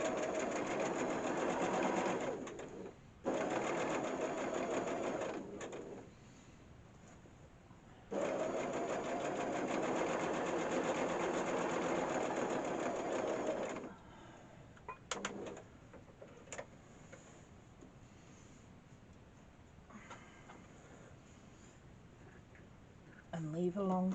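A domestic sewing machine runs a long straight stitch close to the edge across the top of a fabric peg bag, whirring steadily in two long runs with brief pauses, then stopping while a voice talks over quieter handling noises.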